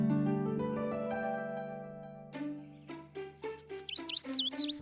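A sparrow chirping in an animated cartoon, a run of quick, bright, rising chirps close by, following a sustained musical tone at the start.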